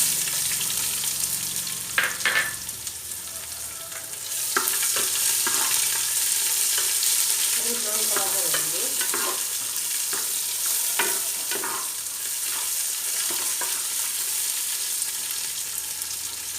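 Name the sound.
onion frying in a pan for garlic fish masala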